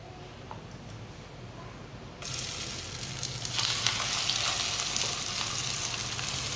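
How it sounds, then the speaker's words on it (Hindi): Potato masala for aloo tikki is stirred in a pan, with a quiet start that gives way to a loud, steady close-up sizzle with small crackles and scraping. "अच्छी तरह मिक्स कर लेंगे"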